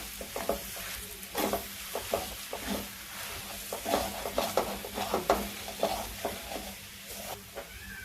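Boiled, mashed potato gets stirred into the hot pan, spatula scrapes and soft pats repeating over a low steady sizzle, close by, with no voices.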